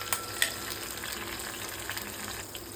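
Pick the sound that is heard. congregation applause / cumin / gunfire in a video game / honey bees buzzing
cumin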